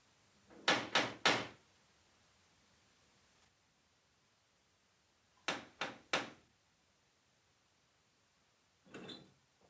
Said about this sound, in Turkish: Kapıyı bir kadın açtı.